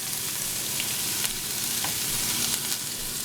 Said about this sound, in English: I'm gonna go ahead and add my onion.